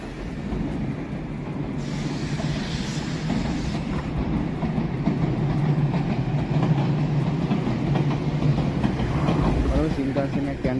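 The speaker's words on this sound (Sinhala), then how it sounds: "ඔන්න ගයිස් කෝච්චියෙන් යනවා." A Shinkansen bullet train in Japan rushes along with a steady, loud rumble and rattling clatter that holds for the whole stretch, with faint voices mixed in.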